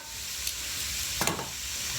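Yard-long beans fry in oil in a pan, a steady hiss and sizzle with a brief louder crackle midway, close and alone.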